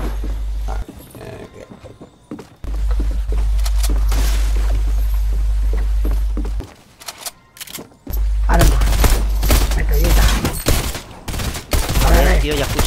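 Bursts of loud automatic gunfire and booms from a shooting video game come in several long stretches separated by short pauses, with faint voices in the quieter gaps.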